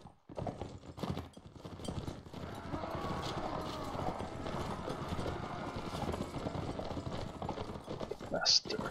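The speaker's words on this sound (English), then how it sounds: "They are charging their horses." Horses charge across a battlefield in the video game Mount & Blade Warband, a busy drumming of galloping hooves building and holding steady, with a brief whinny near the end and someone talking over it.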